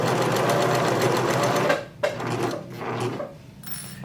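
A sewing machine runs steadily, stitching fringe straight down onto kitchen linens. A continuous, loud mechanical whir fills the first half, then stops and restarts in shorter bursts with brief pauses between them.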